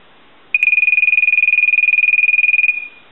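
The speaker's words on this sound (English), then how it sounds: "We'll plug in the North Electric, so I'll ring it." A North Electric telephone bell rings in one rapid, loud trill lasting about two seconds, then cuts off, close and clear.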